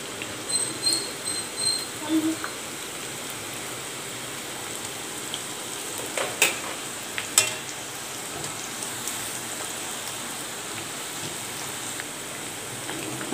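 Masala peanuts frying in oil while being stirred, with soft scraping and light crackling, a few sharper clicks, and a low background hiss.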